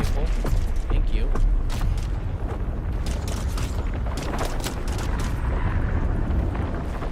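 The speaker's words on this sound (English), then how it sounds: "Stop shooting at me, please." Rapid gunfire and impacts strike a player-built vehicle in Dune: Awakening, a dense, loud crackling barrage of sharp bursts layered over rumbling noise, with a voice speaking over parts of it.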